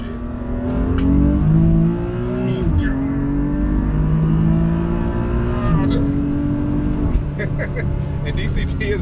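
A tuned BMW F80 M3 with DCT transmission revs hard on a 40 mph roll pull, engine note climbing and shifting in steady sweeps, loud and close from inside the car, with a voice talking over it.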